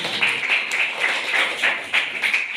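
Applause from a classroom of students, a steady patter of many hands clapping at once, fairly close and even in level, running for a couple of seconds with no voices over it.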